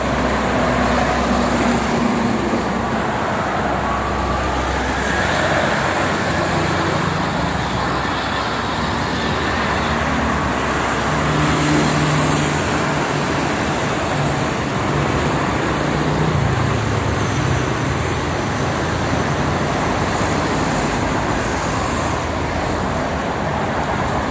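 Continuous highway traffic on the Jakarta-Cikampek toll road in the rain, a dense, steady roar of cars, buses and trucks passing close by for the whole stretch with no talk.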